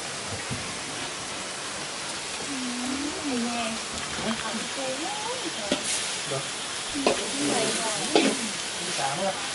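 Finely minced fish dry-roasted in a pan for Lao fish salad, unseasoned, stirred over the heat with a continuous sizzling hiss and scraping stirs, while someone talks over it close by.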